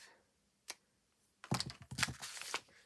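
A single small snip, a pause, then a quick burst of crisp scissor cutting and rustling of paper close up, while making paper fairy lanterns.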